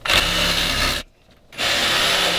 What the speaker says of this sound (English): Got a really fine blade on this jigsaw.